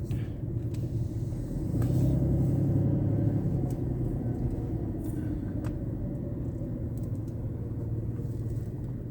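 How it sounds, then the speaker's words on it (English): A vehicle engine rumbles low and steady in a cut out of sight, a continuous distant drone that swells slightly for a couple of seconds and then settles, with no voices. "There's some vehicle back there in the cut."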